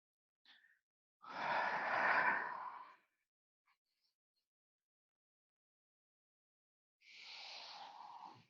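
Breathing during a chair yoga session: a long, airy inhale-like breath, a brief pause of quiet, then another soft, drawn-out breath, close and gentle with near silence between.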